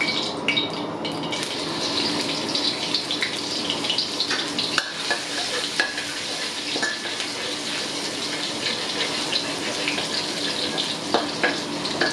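Chopped garlic sizzles in hot stir-fry oil in a pan, a steady, close crackling hiss with scattered sharper pops, running unbroken and alone throughout.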